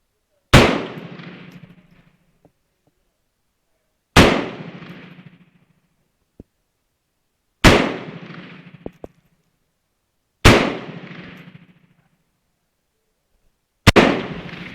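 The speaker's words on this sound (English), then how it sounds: "shots were a little hurried because I wanted to get it in before the break" Five sharp rifle shots from a Yugoslavian SKS M59, spaced about three to four seconds apart, each a loud crack followed by a short decaying echo, with faint clicks between shots.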